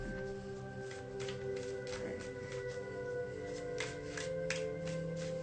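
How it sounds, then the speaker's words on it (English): Fresh deck of tarot cards being shuffled by hand, soft repeated riffling and flicking bursts in an even rhythm, fairly faint over a steady hum. "I just want to make sure I get like a good shuffle, you know, because it is like a fresh deck."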